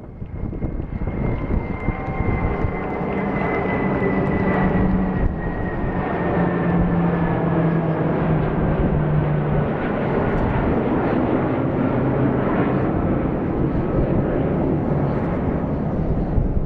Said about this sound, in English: 6 F-18s and the E-2C flew by in formation